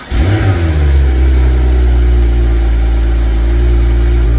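A Porsche 911 Turbo S engine fires up and revs, a loud close burst at the start settling into a steady deep rumble that holds throughout, with no talking.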